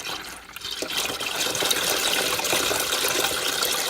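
Engine oil from an Audi A8 pours steadily into a drain container, a continuous close gushing and splashing of thick liquid that swells slightly after the first second and holds steady.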